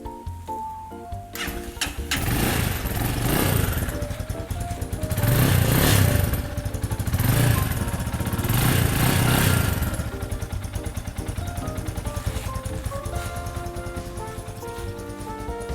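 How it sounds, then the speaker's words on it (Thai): A grey 2017 GPX Legend GTM200 motorcycle engine starts up and settles into a steady, close, loud idle with an even chugging rhythm that continues to the end. "เครื่องยนต์นะครับดีมาก นิ่งๆเงียบ เลยนะฮะ"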